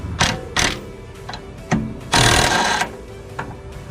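A 14 wrench backing out the upper fork bolt during a driver-side axle replacement on a 2000 Honda CR-V. Close, moderate bursts of rapid ratcheting clicks come in short spurts, with one longer run in the middle.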